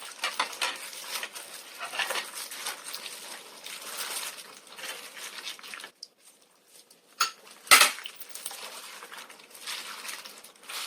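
A ground mixture for young radish kimchi is strained through a sieve into a bowl, giving soft watery trickling and metallic scraping and clinks against the bowl, with a brief pause and one sharp clatter midway.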